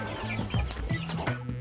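Free-range chickens on a farm cluck in short, repeated bursts close by, several birds calling over one another in a busy, rhythmic chatter.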